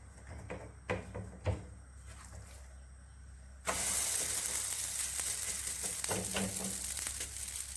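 Vegetable-stuffed bread laid into a heated pan, a few soft knocks followed by a sudden loud, sustained sizzle that holds steady, no one talking.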